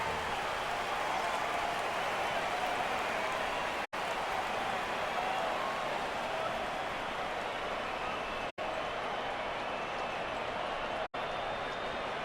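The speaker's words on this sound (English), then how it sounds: "the crowd are appreciating it" A video game stadium crowd in an AFL football match applauds and roars in a dense, steady wash, loud and continuous throughout, with a few abrupt dropouts.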